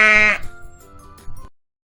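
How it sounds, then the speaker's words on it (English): A single sheep gives one loud, close bleat with a wavering tone, followed by a softer trailing call that stops abruptly into silence. "भेड़, Sheep. Sheep."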